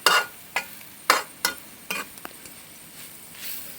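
A Kerala beef curry masala is stirred in a pan with a spoon, giving sharp scraping strokes at an irregular rhythm over a faint sizzle.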